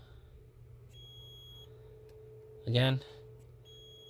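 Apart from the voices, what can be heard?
continuity tester beep on rear defrost wire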